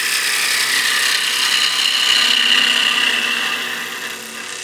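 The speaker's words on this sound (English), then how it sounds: "It's basically just peeling the wood away." A skew chisel making a peeling cut on spinning wood on a wood lathe, lifting long shavings. Close, steady hiss and whir of the cut that holds evenly, then eases off toward the end.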